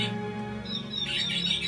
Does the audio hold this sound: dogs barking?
no